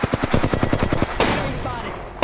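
A rapid burst of automatic gunfire rattles loud and close in the Apex Legends game, about a dozen quick shots in even rhythm, then a brief sharp blast and a lingering noisy tail.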